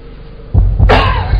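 A single loud, close cough, a harsh rasping burst after a moment of quiet.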